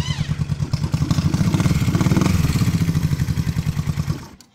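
A 1970 Honda CB350 restomod motorcycle cranks and fires up, a rapid rhythmic mechanical chugging that catches into a loud, uneven running engine close by before cutting off.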